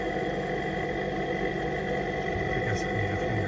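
A Trane XV90 furnace's exhaust inducer motor runs with a steady, rumbly growl and a constant hum, close and loud throughout.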